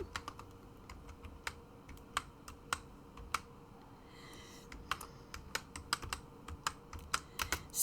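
Someone types on a computer keyboard while playing No Man's Sky, quiet scattered key clicks in irregular bursts that speed up toward the end, close but soft over a faint background hiss.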